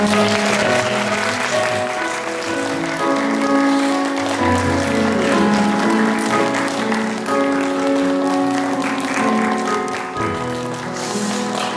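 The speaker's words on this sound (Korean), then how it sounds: "우리 장로님, 지사님께 다 크게 박수 한번 쳐주세요" A church congregation claps for an elder during a Sunday service, a sustained round of applause over a tonal musical or organ-like backdrop, moderately loud and even throughout.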